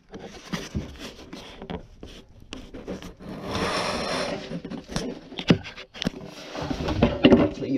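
Plastic nut and seal slid along a bathroom vanity drain pipe, giving scattered rubbing and light knocking, close and moderately quiet, with louder clustered scrapes late in the clip.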